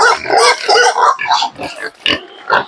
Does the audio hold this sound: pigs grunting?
yes